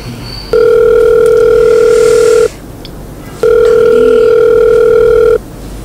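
A telephone ringback tone purrs twice, each long steady ring lasting about two seconds and separated by a short pause, clear and alone.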